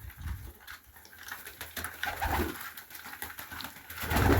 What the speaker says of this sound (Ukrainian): Сразу видно вже повеселішали голуби.